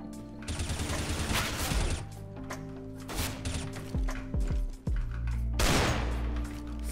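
Desert Eagle pistol shots in Counter-Strike: Global Offensive ring out as a series of loud, punchy blasts, some in quick clusters and others spaced apart, each with a short booming tail.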